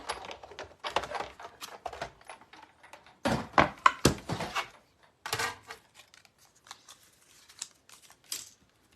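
Card being cranked through a manual die-cutting machine on a magnetic platform produces irregular clusters of clicks, clatters and rattling at close range, with short quiet gaps between the bursts.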